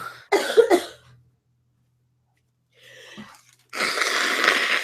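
A short burst of harsh, close coughs, then a pause of near silence, a faint wheezy breath, and a steady rush of noise.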